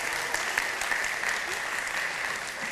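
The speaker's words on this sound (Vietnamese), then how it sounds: "Khán giả vỗ tay ủng hộ em." Audience applause during a live Vietnamese comedy and folk-singing performance, a dense, steady wash of clapping from a crowd, moderately loud and continuous.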